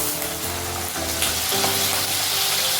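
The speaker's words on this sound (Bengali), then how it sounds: "আমি এবারে একে একে জিনিসগুলো দিয়ে ভেজে নেব। প্রথমে আমি আলুটা দিচ্ছি" Potato pieces frying in hot white oil in a pan for homemade chowmein, a loud, steady sizzle close by with a brief stirring shift partway through, no talking.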